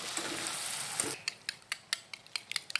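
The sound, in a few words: whisking eggs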